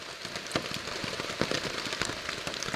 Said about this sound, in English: This rain just hasn't let up at all. It's bucketed down and bucketed down since about 8 o'clock.